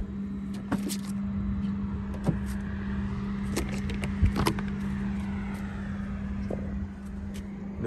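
A 2014 Ford Mustang is unlocked and its door opened: a few sharp latch and lock clicks spaced over several seconds, close by, above a steady low hum.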